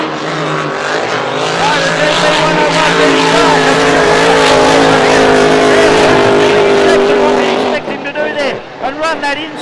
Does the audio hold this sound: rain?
no